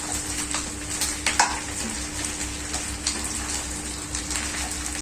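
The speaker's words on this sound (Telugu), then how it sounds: "మన చికెన్ బాగా ఫ్రై అయిపోయింది." Chicken for a spicy Nellore-style kodi fry sizzles steadily in a pan, with close, continuous frying hiss and occasional stirring scrapes, and no talk.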